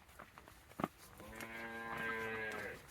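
A bull on a village farm, brought home with the cattle during the first rains, lets out a long, loud, drawn-out moo that starts after a brief knock and holds steady until the end.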